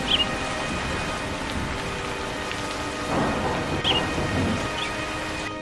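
Steady rain falls on a surface while thunder rumbles low and continuous, swelling into heavier rolls midway, in a cartoon storm sound effect with no voices.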